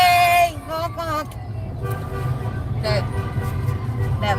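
Car horns honk from a wedding party procession on a St. Louis street, with a clear sustained toot at the start and traffic rumble continuing underneath. People chatter nearby throughout.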